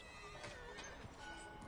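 A horse whinnies in Red Dead Redemption 2, in a busy, dense mix of game sound, with a faint hint of hooves and ambient noise underneath.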